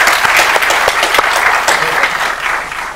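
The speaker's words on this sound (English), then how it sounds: "so can we give them another round of applause" Loud, sustained audience applause for the judges at a Famelab Mauritius science-communication event, dense clapping that holds steady and then begins to fade.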